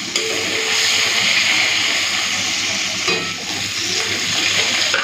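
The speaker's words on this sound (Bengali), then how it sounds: "এই মাছগুলো ভেজে নিই। মাছের মাথাগুলোও দিয়ে দিই।" Hilsa fish pieces and fish heads frying in hot oil, a steady loud close sizzle with bubbling crackle that holds throughout.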